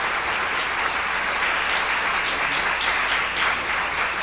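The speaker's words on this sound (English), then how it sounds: "So let's give a big round of applause" A church congregation at a Sunday service gives a big, sustained round of applause, dense and even clapping from a sizable crowd filling the whole stretch.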